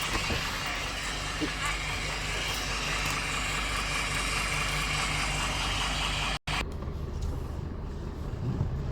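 A car engine hums steadily at close range while test driving a car that would not accelerate properly, with a continuous road and engine drone that briefly cuts out near the end.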